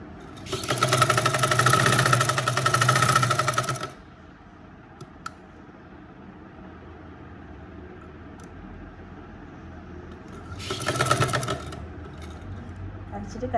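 Domestic sewing machine stitching a blouse seam, two loud bursts of rapid whirring: a long run of about three seconds, then quiet handling, then a short run to finish.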